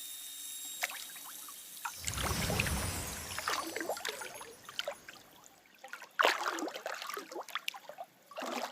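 A person wades and sinks into cold water, with a burst of sloshing and splashing followed by scattered drips, trickles and small splashes as they settle.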